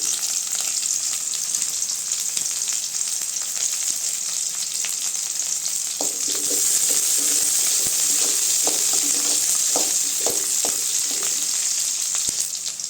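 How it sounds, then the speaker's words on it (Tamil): Curry leaves, dried chillies and onions sauté in a hot pan for a banana stem poriyal, giving a steady close sizzle that grows busier partway through with scattered scraping clicks from stirring. "வெங்காயம் நல்லா வதங்கட்டுங்க"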